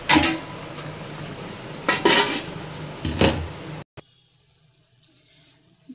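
Metal clinks and scrapes from a cooking pot of prawn pulao as a lid is handled and set back on, several sharp clanks close by, then near silence.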